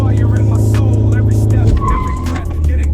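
A 2025 BMW 430i doing a launch-control start, a loud steady engine roar at high revs that breaks off as the car leaps away, with brief tire squeal and then a lower engine note. A voice talks faintly underneath.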